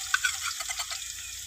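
Ginger garlic paste frying with onions in a pan gives off a steady, soft sizzle and crackle with light stirring. It runs continuously at moderate loudness and no one talks over it.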